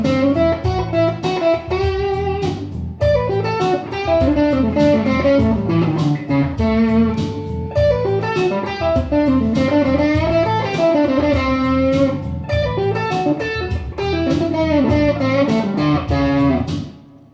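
Telecaster electric guitar with a Lollar pickup playing a continuous melodic phrase that moves from minor to major, with clear picked notes and a slightly driven tone, alone and steady throughout.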